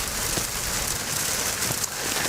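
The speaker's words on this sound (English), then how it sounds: "I just want to turn the camera and just show you some of the heavy rain that we're heading into." Heavy storm rain drumming steadily on a moving Chevy storm-chasing vehicle during a tornado-warned thunderstorm near Charlotte, a dense, continuous hiss with no voices.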